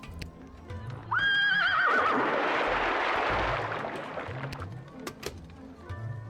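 A horse neighs loudly in the video game Lil Guardsman, a rising whinny that breaks into a shaky descending call, then fades into a longer breathy blow; faint game ambience continues around it, with no talking.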